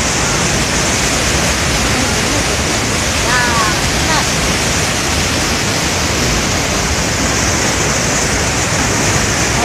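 A waterfall swollen after heavy rains roars as a loud, unbroken rush of water, dense and close, with a faint voice barely audible beneath the torrent.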